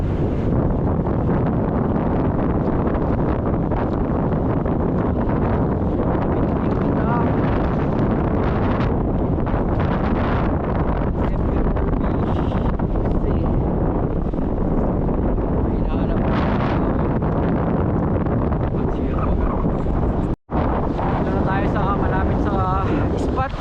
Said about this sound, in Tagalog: malakas kasi yung hangin